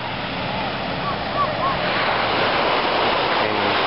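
Surf rolls onto Playa Concha Acústica, a sand and pebble beach in Carúpano, as a steady wash of waves with a brief faint tonal sound in the middle.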